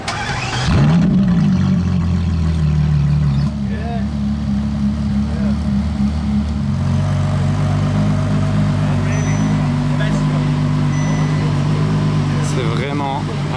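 A LaFerrari fires up with a sharp starter burst and a loud rising bark, then settles into a deep, steady idle rumble close by, with people talking over it.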